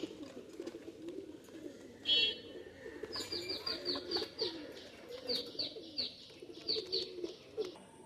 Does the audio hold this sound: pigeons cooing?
yes